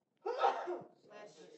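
A single sharp sneeze bursts out close by during an indoor church service, followed by a softer breathy trailing sound.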